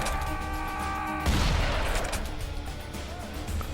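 Shotgun blasts in the video game Serious Sam 3 BFE, a loud burst of gunfire with a heavy boom partway through, followed by a dense rumble of continued fire and game noise.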